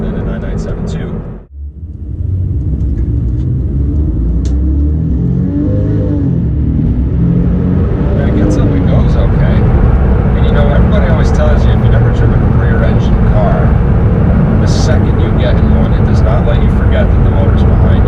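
A Porsche 911 997.1 with a 5-speed automatic accelerates hard; the engine note swells loud and close after a brief dip, holding a strong rising roar throughout.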